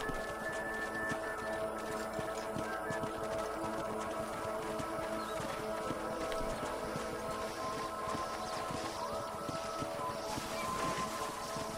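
Horses galloping in Red Dead Redemption, a steady low rumble of hooves beneath game ambience, faint and continuous throughout with no talk.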